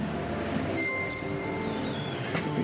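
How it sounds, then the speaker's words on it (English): Bicycle bells ring near a lake at a forest holiday park, with a couple of bright bell rings over outdoor ambience, then a fainter ring later. "Lots of bikes and bells around here."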